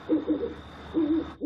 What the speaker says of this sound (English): All owl sounds, all the time.